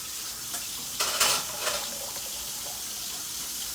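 Thick canned tomato sauce glugs into a cooking pot for homemade spaghetti sauce, a short soft splashing burst near the middle, otherwise quiet.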